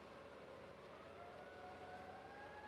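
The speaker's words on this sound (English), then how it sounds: "There goes the sirens." Distant emergency sirens wail with a steady rising tone over a constant background rumble, faint and far away, on the Fort Lauderdale waterfront at night.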